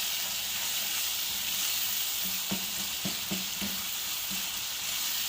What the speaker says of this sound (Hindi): अच्छे से इसकी भुनाई करनी है।